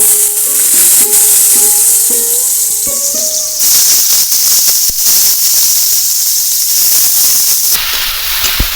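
Green plantain slices frying in hot oil in a wok for a Bengali lunch, giving a loud, steady hiss and sizzle throughout, with a few squeaky tonal scrapes near the start.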